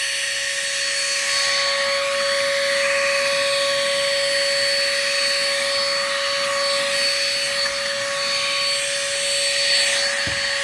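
A small vacuum cleaner runs steadily with a constant high motor whine and airy hiss, close and fairly loud, unchanging for several seconds before a sharp click at the very end.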